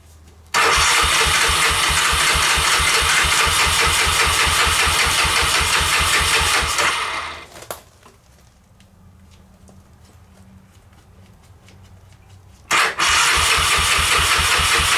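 A 1988 Honda 300 Fourtrax ATV engine cranks and catches, running with a loud steady rapid chug for several seconds before cutting out; after a quiet pause it roars back to life briefly near the end.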